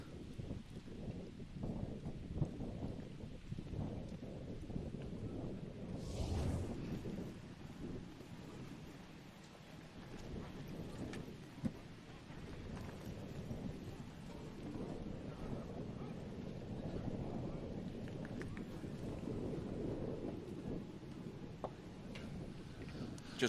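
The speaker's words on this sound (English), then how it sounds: "how much that wind is blowing and gusting from time to time, it's quite easily heard through the microphone" Wind blowing and gusting into the microphone at an outdoor waterski championship, a low rumbling buffet that swells and eases throughout, with one stronger gust early on.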